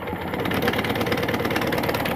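A motorcycle engine being cranked over by its Dynastart starter-generator, a dense continuous mechanical churn and whir at steady loudness, close up with no talk.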